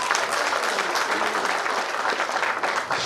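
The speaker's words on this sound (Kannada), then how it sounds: "ಒಂದು ದೊಡ್ಡ ಚಪ್ಪಾಳೆ ಬರಬೇಕು" Dense, steady audience applause at a Kannada film event, loud and continuous for about three seconds with no voices over it.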